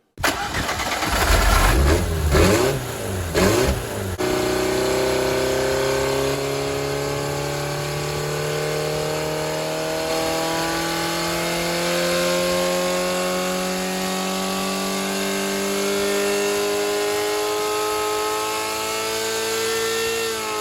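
A Ford Pinto 2.1-litre engine fitted with motorcycle carburettors cranks and fires, then settles into a loud, steady running note with slowly shifting pitch, heard close and alone for about sixteen seconds.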